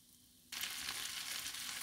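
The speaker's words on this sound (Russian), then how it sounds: "Вот просто прекрасно жарится" Fish fries in butter on paper in an old pan, a sudden loud, close sizzle that bursts in after a quiet moment and keeps crackling steadily.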